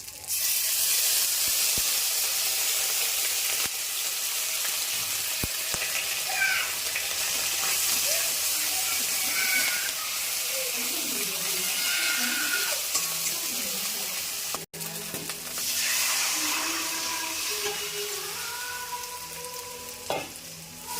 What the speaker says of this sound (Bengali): সাঁতালে শুধু দেওয়া হচ্ছে তেজপাতা, পাঁচফোড়ন আর আদা বাটা